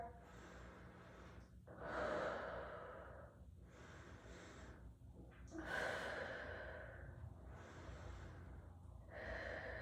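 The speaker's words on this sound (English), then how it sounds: "Take a couple deep breaths right here." Slow deep breaths during a stretch, several long audible inhales and exhales in a steady rhythm, close to the microphone and with no talking.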